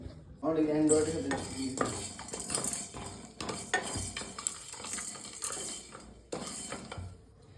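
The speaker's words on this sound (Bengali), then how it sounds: "এখন আমি এই মশলাগুলোকে অল্প একটু শুকনো খোলায় টেলে নেবো" Whole spices being dry roasted in a dry pan, with close metallic scraping and clinks of a utensil against the pan and a rattling stir throughout, and no sizzle of oil.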